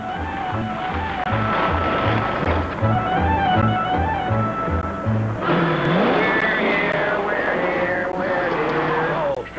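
An old car engine runs with a rough, pulsing chug under a cowboy-style sung chorus of voices, steady and close throughout.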